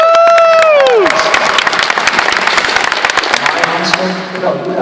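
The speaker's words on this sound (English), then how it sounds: "you guys, we're applauding you" At a comic convention panel, a crowd bursts into loud applause and cheering after a falling whistle-like tone, with voices talking over the clapping.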